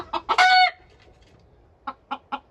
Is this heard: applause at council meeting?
no